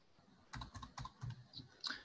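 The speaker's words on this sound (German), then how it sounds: "heute tut die Tastatur sich aber auch sehr schwer" Keys on a computer keyboard clack in short, uneven bursts, a handful of quiet taps close by with no talking over them.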